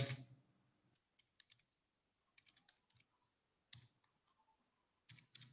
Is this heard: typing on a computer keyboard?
yes